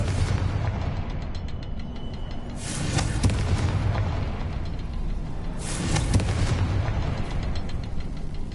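Confringo fire spells explode in Hogwarts Legacy. Two booming bursts land a few seconds apart over a dense, rumbling background of combat noise, with no talking.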